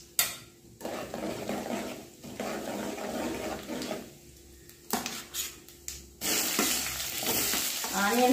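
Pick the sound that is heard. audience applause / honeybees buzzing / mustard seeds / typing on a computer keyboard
mustard seeds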